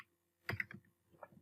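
A few quick keystrokes clatter on a computer keyboard, close and fairly quiet, in a short run of clicks with a brief pause before a final tap or two.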